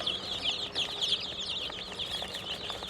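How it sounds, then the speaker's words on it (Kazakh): Chicks and chickens in a poultry brooder, a dense chorus of high-pitched cheeping with occasional clucks, continuous and fairly close. "Балапандар осы ағайын."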